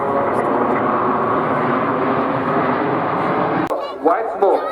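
Formation of nine MB-339 jet trainers passing at an airshow, a steady broad roar that holds for several seconds then cuts off abruptly, followed by a fainter fluttering tail.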